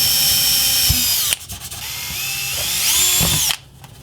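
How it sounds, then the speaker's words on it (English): A power drill boring holes in a plastic Nerf blaster part, two whining bursts that rise and fall in pitch as the motor loads up, each stopping abruptly, close and loud. "I'm going to drill some holes through it, and then drill some holes into my gun"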